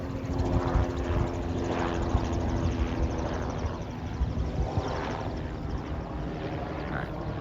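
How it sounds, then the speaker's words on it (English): Helicopters pass over a New England yard at sunset, a steady low rotor drone with slow swelling beats holding through the whole stretch at moderate distance, with no talking. "those helicopters I told you about go by every night for sunset"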